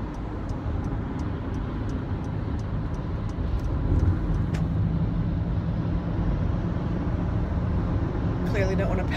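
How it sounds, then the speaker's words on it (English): A car drives along a road beside a semi truck, giving a steady broadband rumble of engine and tyre noise with a faint ticking and light clatter near the end. "I don't think I want to be behind this semi truck."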